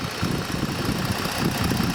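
Ford Taurus Police Interceptor police pursuit car with a 3.5 liter engine idling smoothly, a steady close low hum with a faint even pulse and no talking.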